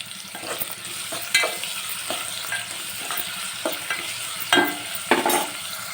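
Ingredients for egg biryani fry in a pan until browned, the crackling sizzle steady and close while a spoon stirs and scrapes in several sharp, irregular strokes.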